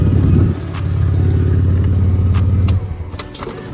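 A Mercedes C32 AMG idles nearby with a deep steady throbbing hum, a brief louder burst at the start, then a constant drone until it drops off near the end, with light clicks and rattles scattered over it.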